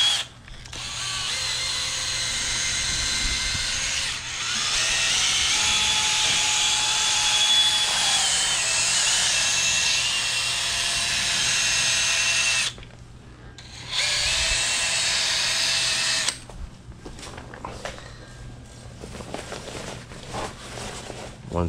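Power drill fitted with a polishing pad buffs plastic car headlights, a loud continuous high whine running steadily with two brief pauses where the motor stops and restarts.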